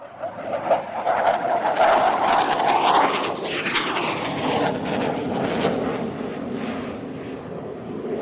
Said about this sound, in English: if you like your aircraft sounds nice and loud, you might want to turn it up a little bit